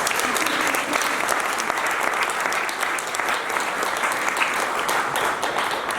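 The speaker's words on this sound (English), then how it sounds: "I think we need to give everybody a very large round of applause right now." A studio audience at an interfaith conference for the 550th Parkash Utsav of Guru Nanak Dev Ji applauds in a dense, sustained round of clapping, loud and even throughout, with no voices standing out.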